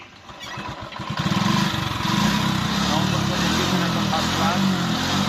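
A TVS XL 100 moped engine starts and settles into a steady, loud, close putter that runs throughout, with voices talking over it.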